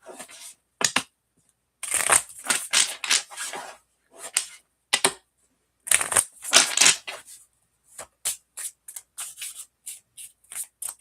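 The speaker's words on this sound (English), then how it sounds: "I'm gonna give this three more shuffles" A deck of cards is shuffled in repeated crisp riffling bursts separated by short silences, close and clear with a few lighter flicks toward the end, no speech.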